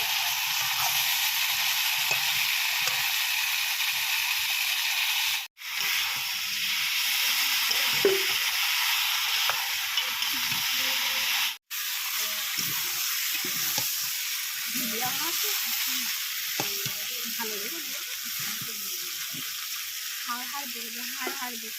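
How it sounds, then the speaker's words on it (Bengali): Village black rooster meat is stir-fried in a hot pan. A loud, constant frying hiss runs throughout, broken by a couple of sudden brief cuts, while soft scraping stir strokes come and go underneath. "এবার আমরা মাংসটা ভালো করে কষিয়ে নেব।"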